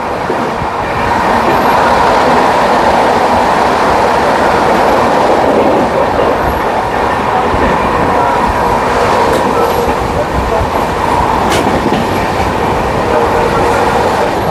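The Jharkhand Sampark Kranti train rolls along the rails on its run from Delhi to Ranchi, a loud, steady rumble with faint rhythmic clatter throughout.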